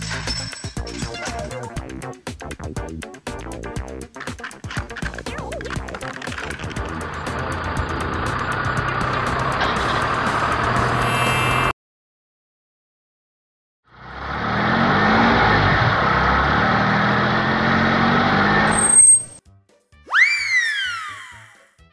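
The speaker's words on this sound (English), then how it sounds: "Tow truck." Cartoon tow truck engine in a children's educational animation, a loud steady motor hum with rhythmic pulsing, cut by a brief silence, then resuming with whooshing and rising sound effects at the end.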